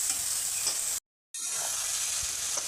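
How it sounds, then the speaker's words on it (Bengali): Spices frying with chicken in a pan, giving a dense, bright sizzle close by, broken by a brief moment of silence before the hiss resumes, with no talking. "সুন্দর করে মশলাগুলোকে একটু ভেজে নেবো।"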